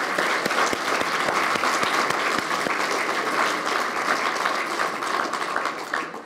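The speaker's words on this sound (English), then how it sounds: "a big round of applause again for our Global Challenge Scholars" An audience gives dense, sustained applause for a group of student scholars at a campus event, with steady clapping and a few sharper individual claps standing out throughout.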